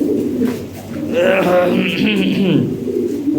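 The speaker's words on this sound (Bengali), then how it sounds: "অনেক কবুতর আছে" Lahore Siraji pigeons coo in a close, warbling burst that rises and falls over a few seconds, with a faint voice or background murmur underneath.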